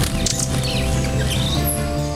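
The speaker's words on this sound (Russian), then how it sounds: "Колибри машет крыльями с сумасшедшей скоростью 80 взмахов в секунду." A hummingbird hovering at a feeder in Costa Rica, its fast wingbeats making a continuous close buzz, with high chirps and tweets over a steady low hum.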